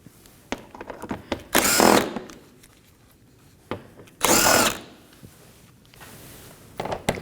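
Power tool backing out 10mm bolts beneath the bumper of a Toyota Corolla, with two loud close whirring bursts between quieter clicks and handling noise.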